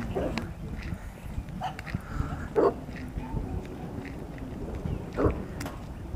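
Dogs outdoors on a morning walk give a few short yips and barks, fairly faint and spaced apart, over a steady background of outdoor noise.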